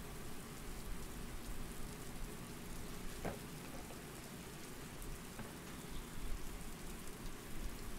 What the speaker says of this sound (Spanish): Lluvia guarra.